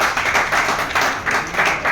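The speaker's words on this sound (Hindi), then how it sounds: "एक जोरदार ताली आप लोग अपने लिए और शिल्पी के लिए" An audience applauds at a Rotary Club gathering, a short burst of dense, steady clapping from a crowd nearby, lively and fairly loud, with no talking over it.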